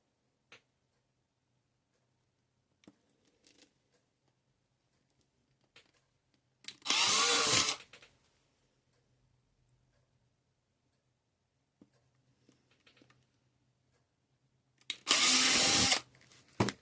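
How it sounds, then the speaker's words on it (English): A drill bores small holes into a dried gourd for a lamp, with two loud buzzing bursts about a second each several seconds apart, separated by quiet stretches of faint clicks and handling noises. "I'm going to go through and I'm going to drill little holes all in here."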